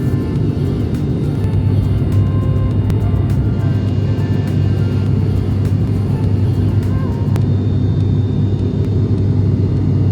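Small propeller airplane in flight over mountains, its engine giving a steady, loud, continuous drone and rumble heard from inside the cabin throughout.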